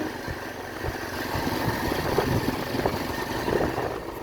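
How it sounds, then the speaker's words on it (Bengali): A motorcycle on the move, heard as a steady, fairly loud rumble of engine and road noise that runs the whole time with no talking. "আমার দাদা বাইক চালাচ্ছে"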